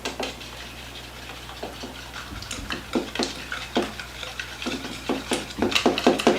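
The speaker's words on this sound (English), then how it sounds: "And then we're going to whisk all that together." Scone batter of lemon zest and egg being whisked for blackberry lemon scones, a run of quick uneven scraping taps against a bowl, close and moderately loud, picking up toward the end.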